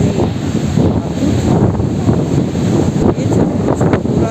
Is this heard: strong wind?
yes